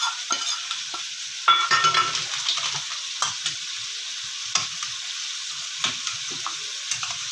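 Onions browning in a pan for chicken biryani, a bright continuous sizzle with repeated spatula stirring scrapes and knocks, close and fairly loud.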